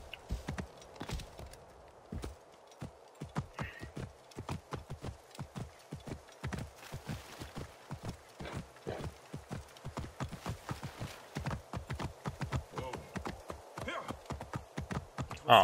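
Horse hooves clip-clop steadily and fairly close in the video game Assassin's Creed Origins, a continuous rhythmic trot of sharp thuds lasting the whole stretch over a low background.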